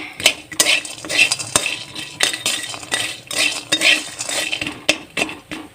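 A metal spatula stirs lentil dumplings (bori) frying in a little oil in a pan, making loud, close, rhythmic scraping and clinking strokes that continue throughout with a few sharp knocks.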